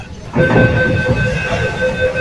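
A Kolkata metro train stands or moves at the Howrah station platform, giving a steady rumbling hum with a sustained tonal whine, loud and close after a short quieter start.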